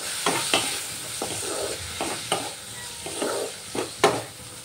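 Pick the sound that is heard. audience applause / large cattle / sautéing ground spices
sautéing ground spices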